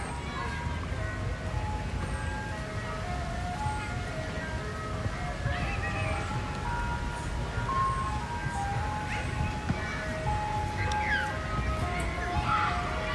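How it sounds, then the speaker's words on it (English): An ice cream truck's tinkling chime melody plays at a distance on a Toronto street, faint, high notes drifting over steady outdoor traffic and city rumble. "Hey, it's the ice cream truck."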